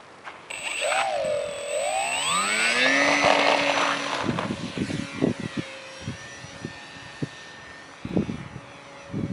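A fixed-wing UAV model airplane flies, its engine whine sliding up and down in pitch as it passes, then fading into quieter, scattered mechanical knocks and clicks.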